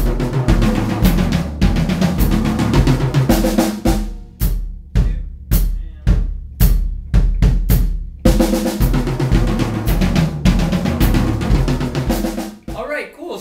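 A drum kit plays a busy groove over a repeating bass-drum foot ostinato, with dense cymbal wash, a sparser breakdown of spaced hits in the middle, then full playing resumes.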